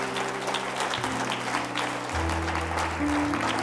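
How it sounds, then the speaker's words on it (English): A church congregation claps together in a sustained, steady wash of applause, with held instrumental tones running beneath it and no voices rising above. "Let's give a clap offering to our Lord Jesus this morning."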